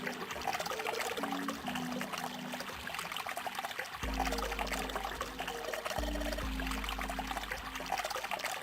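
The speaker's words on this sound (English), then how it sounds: "Hey, water's filling up." Water filling up in the video game 999 (The Nonary Games) pours and rushes steadily for the full length, loud and continuous, with low sustained musical tones layered underneath and no voices.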